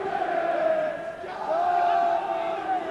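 A football stadium crowd chants and roars in sustained salute as a player goes to take a corner, a broad swelling mass of voices from the stands.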